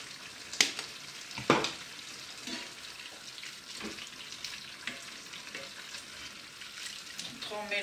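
Spices, including sweet paprika, stirred in a frying pan for a beef bourguignon with peas, giving a low soft sizzle with a few sharp utensil scrapes near the start, quiet and close with no voices.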